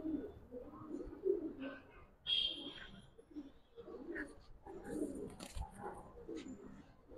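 A pair of big-size Giribaz pigeons coo in soft, repeated low murmurs, close by, with light chirps, background noise and faint voices mixed in.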